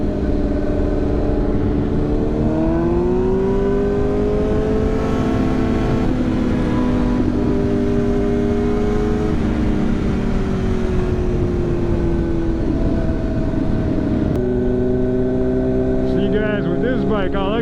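Sport bike engine rises and holds in steady throttle blips, a continuous loud droning growl with shifting pitch, while someone talks over it.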